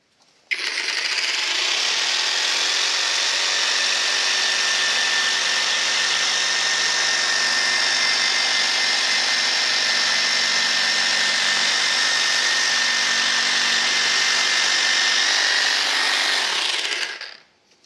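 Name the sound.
Parkside cordless jigsaw making a curved cut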